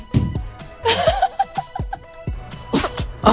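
A dog lets out several loud, sharp sneezes in quick succession, each a short explosive burst, close to the listener, mixed with brief human laughter and chuckling between them.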